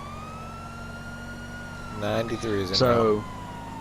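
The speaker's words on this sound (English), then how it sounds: "We're gonna go lights and sirens" A police car siren wails steadily in the GTA V police mod LSPDFR, a sustained tone that holds throughout. A radio voice briefly talks over it near the end.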